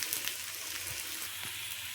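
Spiced masala fry sizzles steadily in hot oil in a pan, a quiet continuous crackle with faint pops close by.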